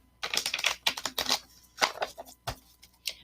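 Angel cards shuffled by hand in a quiet room, a fast run of crisp, dense riffling clicks in bursts with short pauses between, close and fairly loud, no voices.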